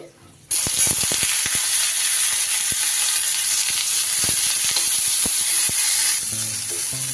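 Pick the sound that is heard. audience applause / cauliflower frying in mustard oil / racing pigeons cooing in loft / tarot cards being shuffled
cauliflower frying in mustard oil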